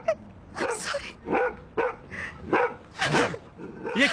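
Dog barking in a series of sharp barks and yips, roughly one every half second, fairly close, with a few whimpering tones between barks.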